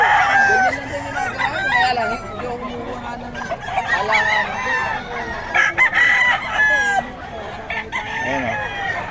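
Several roosters at the Bocaue market crow and cluck in overlapping bursts, loud and close, with honking fowl and busy market noise around them.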